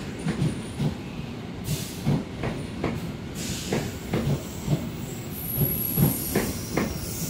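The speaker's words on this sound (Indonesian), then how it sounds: "ini ada kereta kompartemen suite yang warna biru" A blue compartment-suite passenger train rolls through a busy Jakarta station, with a steady rumble of railcars and rhythmic wheel clacks over rail joints, plus brief hissing and faint squeal near the end.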